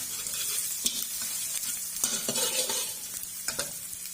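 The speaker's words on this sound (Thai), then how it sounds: "แล้วเราก็จะเอาพริกแกงไปผัดนะคะ" Red curry paste is stir-fried in a little oil in a pan for a fish curry, a low, close sizzle with repeated scraping strokes of the spatula.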